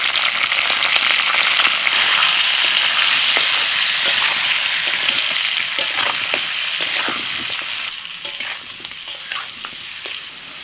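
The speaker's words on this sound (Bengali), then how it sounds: "তো তার জন্য আলুটাকে ভেজে নিচ্ছি।" Potatoes frying in hot oil for Kashmiri dum aloo, a steady loud sizzle with occasional stirring scrapes and crackles, fading slightly toward the end.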